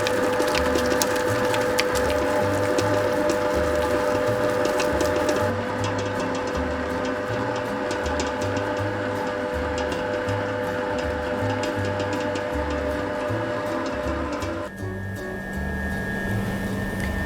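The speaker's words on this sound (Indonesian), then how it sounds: "Mixer adonan hingga adonannya kalis." Electric mixer kneading sweet bread dough, a loud, steady mechanical whir with rhythmic knocking and a constant motor hum that shifts pitch slightly partway through, with no voices.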